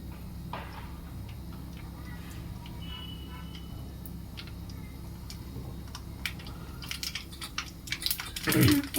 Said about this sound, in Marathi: हे बघा मोहरी कशी मस्त तडतडती आहे.